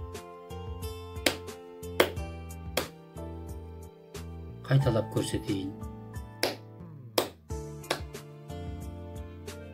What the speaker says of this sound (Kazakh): Қазір мына суретке қарап, шапалақтап соғып үйренейік.